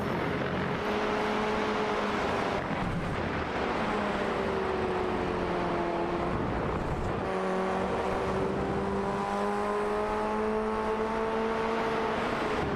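Formula Ford race cars in the iRacing sim at Donington Park run in a line, several engines droning steadily at high revs with slowly shifting pitch as they pass, loud and continuous over the full stretch.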